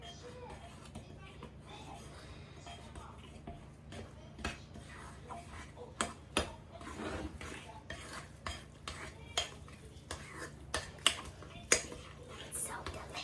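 Beer bread batter being stirred in a bowl with a utensil, giving irregular clinks and scrapes that grow busier toward the end over a low background hum, with talking around it.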